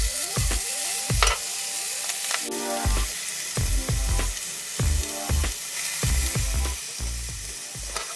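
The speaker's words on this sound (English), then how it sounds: "The way this steak is sizzling right now, I'm just in love." Steak sizzles and crackles steadily in a hot pan with cherry tomatoes, with intermittent clanks and scraping of utensils against the pan throughout.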